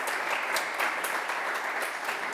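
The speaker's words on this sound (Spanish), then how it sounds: "un aplauso para los sponsors" Conference audience applauding the sponsors at a talk, steady even clapping from a seated crowd that fills the room, moderately loud and unbroken for a couple of seconds.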